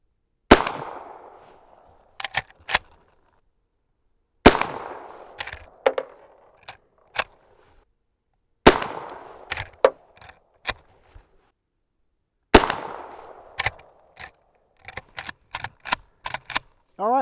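A Henry Big Boy lever-action rifle fires .357 Magnum powder-coated 158gr semi-wadcutter rounds: four sharp, loud shots about four seconds apart. Each shot is followed by crisp metallic clacks of the action being cycled.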